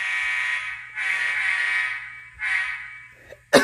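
An ESU LokSound decoder sounds the horn of a model Union Pacific Heritage 8444 locomotive: a loud, buzzy, chord-like tone in three blasts, two long and one short, followed by a sharp click.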